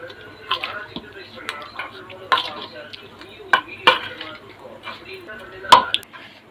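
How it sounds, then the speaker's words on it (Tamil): Grated coconut being mixed into cooked rava with a utensil in a home kitchen: scraping and clinking against the vessel, with several sharp louder knocks over a low background murmur. "நல்லா மிக்ஸ் பண்ணிக்கலாம்."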